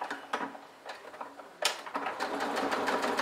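A sewing machine stitches a makeup pouch in short bursts, its rapid ticking needle action starting and stopping, then running more steadily, close and fairly quiet.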